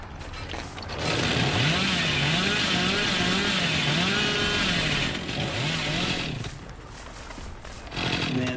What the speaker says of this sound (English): Man, that chainsaw's hard to manage.